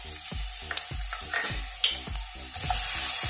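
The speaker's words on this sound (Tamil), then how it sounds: "எண்ணெய் நல்லா காஞ்ச உடனே ஆனியன் சேர்த்துக்கோங்க." Onions frying in hot oil in a pan, a bright steady sizzle under a regular rhythm of thudding stirs and scrapes, close and moderately loud.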